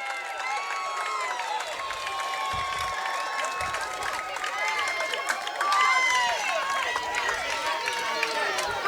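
Coaches and spectators cheer and call out from the sidelines at an 8U youth baseball state final, a continuous blend of many overlapping voices with shouts rising and falling, outdoors and moderately distant.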